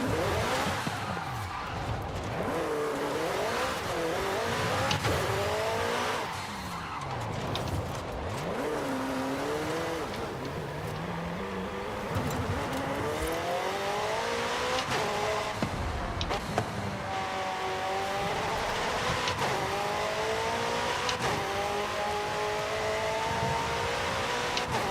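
A Ford Transit revs hard in Forza 5, played on a Moza R5 wheel, with repeated rising engine sweeps broken by quick gear changes and downshifts, loud and continuous with occasional tire noise.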